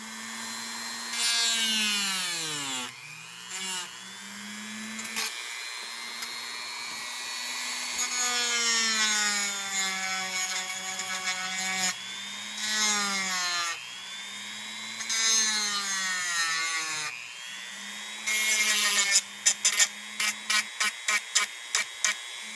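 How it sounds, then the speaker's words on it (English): A Dremel rotary tool grinds down a plastic servo mount on an Axial SCX10 III kit crawler, a high whine rising and falling in repeated bursts with short pauses between, close and fairly loud. "I'm just going to Dremel that down and square it off so that I can fit"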